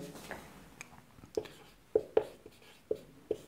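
An equation written on a board in a classroom lesson: quiet scratchy strokes broken by about six sharp taps as the chalk or marker strikes the surface, close and isolated, with no talking.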